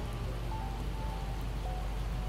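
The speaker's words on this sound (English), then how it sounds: "And it's raining." Rain in the video game Project Zomboid: a steady, even hiss of falling rain with a low rumble underneath, constant throughout with no talk.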